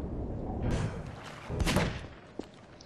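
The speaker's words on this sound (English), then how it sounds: "I hear gunshots, but I don't see you." Muffled bursts of distant video-game gunfire in Garry's Mod Murder thump and rumble over a steady noisy background, with a sharper single shot near the end.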